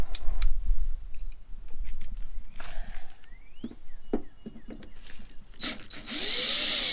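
A power tool working a heated, stuck screw out of a Chevy Tahoe quarter panel, short bursts of whirring and clicking separated by handling noises, ending in a louder, sustained spin, close and without talk.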